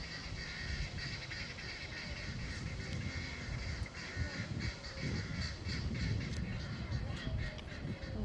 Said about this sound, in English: Those birds are really loud over there.